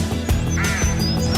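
Birds call and ducks quack over steady instrumental music in a song, with bright chirps and a few honking quacks mixed in at moderate loudness.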